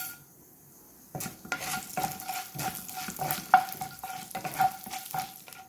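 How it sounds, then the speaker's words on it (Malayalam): Chana dal and urad dal fry in three tablespoons of oil in a pan, a steady crackling sizzle that starts abruptly after a quiet second, punctuated by repeated scraping stirs and light clinks of a spoon against the pan. "ഒരു പാനിലേക്ക് 3 ടേബിൾ സ്പൂൺ ഓയിൽ ഒഴിച്ചിട്ട് 1 ടേബിൾ സ്പൂൺ കടലപ്പരിപ്പും 1 ടേബിൾ സ്പൂൺ ഉഴുന്നുപരിപ്പും ഇട്ട് ഒന്ന് വറുത്ത് കൊടുക്കും."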